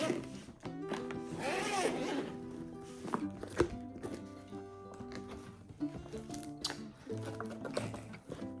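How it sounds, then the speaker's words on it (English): A zipper is pulled open on a case holding a Lensbaby soft focus optic swap macro kit, a rasping zip near the start followed by handling thumps and rustles of the kit. "So I'm going to go ahead and unzip this and let's see what's inside."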